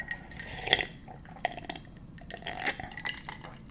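Someone sips and swallows water up close during a mukbang meal, soft gulps and wet mouth sounds mixed with faint clinks of a glass or dishes, fairly quiet with no talking.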